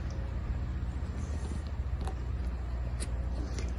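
An AUTOGEN 110V 1/4 HP 4CFM single-stage rotary vane vacuum pump runs with its brass valve opened, giving a loud, steady low hum under a constant airy hiss, with a few faint clicks.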